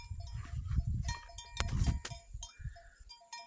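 Thai native cattle graze out on pasture, with bells clanking irregularly and soft animal calls mixed into a steady outdoor background, no voices present.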